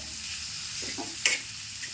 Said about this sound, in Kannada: ಈಗ ನೋಡ್ರಿ ಉಳ್ಳಾಗಡ್ಡಿ ಫ್ರೈ ಆಗ್ಬೇಕ್ರಿ